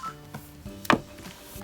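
A telephone sounds indoors in one short, sharp burst partway through, over a faint background of quiet room noise.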